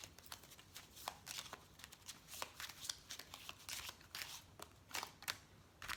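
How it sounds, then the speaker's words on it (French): Oracle cards for a love reading being shuffled and drawn by hand, a quick series of crisp riffling flicks and papery snaps in irregular bursts, close and fairly soft, with no talking. "je vais sortir une petite carte"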